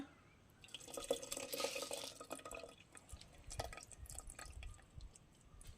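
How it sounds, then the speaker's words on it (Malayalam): Tamarind water poured into a pot of curry, a trickling splash at first, then scattered drips and soft bubbling afterward, quiet and close. "പുളി വെള്ളം ഒഴിച്ചു കൊടുക്കുകയാണ്"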